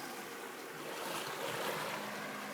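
Sea waves wash onto a shore at night, a soft continuous surge and hiss with some wind buffeting the microphone, fairly faint and steady.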